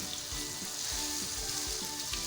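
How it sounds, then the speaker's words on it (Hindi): Medium-sized onions sizzle and fry in a pan for aloo keema, a steady close crackle with soft periodic stirring scrapes underneath. "प्याज को हमें इतना फ्राई करना है कि प्याज में एक अच्छा सा गोल्डन कलर आ जाए"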